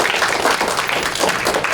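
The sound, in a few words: audience applause for speakers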